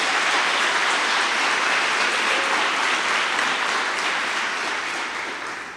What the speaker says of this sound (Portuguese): vou deixar você aplaudir que eu sou acelerado.